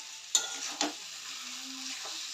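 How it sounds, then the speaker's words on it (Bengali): Spices popping and sizzling while being stir-fried in a pan, with a couple of sharp pops early on over a steady quiet sizzle and scraping stirs. "দেখেছো, ফট ফট করে আওয়াজ হচ্ছে, খুব ফোটে।"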